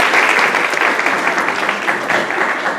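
An audience applauds at the end of a pre-selection round, a continuous, loud, close wash of clapping lasting a few seconds without clear gaps.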